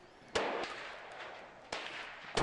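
Tommy gun firing in the virtual-reality shooting game Gun Club VR: three sharp, fairly quiet single reports spaced more than a second apart, each with a short fading tail.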